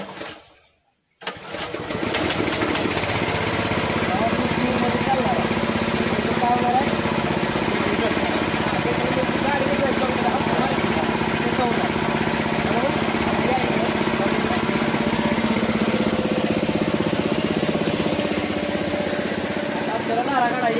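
Small petrol engine of a Gokul milking machine starts after a short pull and then runs at a steady, loud, buzzing idle close by, with a voice talking faintly underneath.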